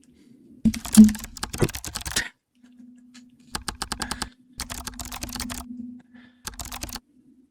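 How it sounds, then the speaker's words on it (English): Headphone case dropped onto a computer keyboard, giving a burst of clattering key presses, then several more short bursts of rapid clicking that sound like typing, close and dry over faint hum. "Just dropped my headphone case on my keyboard, but it sounded like keyboard typing anyway"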